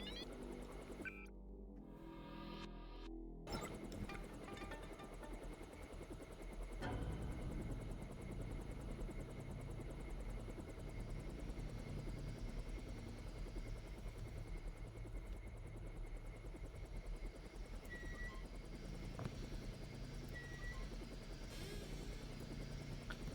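A helicopter in the video game Deus Ex flies with a steady, loud rotor and engine drone that holds evenly throughout, with a brief sharper burst near the start.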